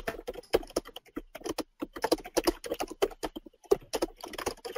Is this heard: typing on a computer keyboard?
yes